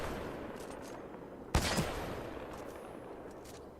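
A single sharp sniper rifle shot in Titanfall 2 cracks out midway, loud and close, followed by a brief echoing tail over a steady background hum.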